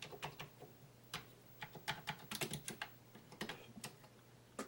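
Keys clack on a Commodore 64 keyboard being tested for a fault, irregular quick presses, fairly close and faint, with no talking.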